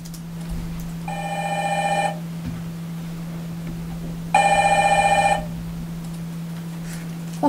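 A telephone rings while a call is being put through, two bursts of ringing separated by a pause, heard alone over a steady low hum.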